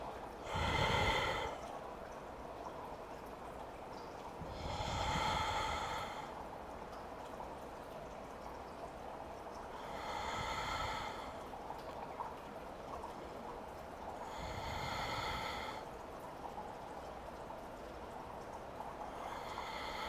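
Deep, slow breathing during a hatha yoga session, with four or five long, airy breaths arriving at an even pace about five seconds apart against a quiet room.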